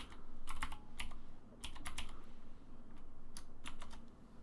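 Bursts of typing on a computer keyboard, clustered key clicks in short quick runs with brief pauses, close and fairly quiet over a low steady hum.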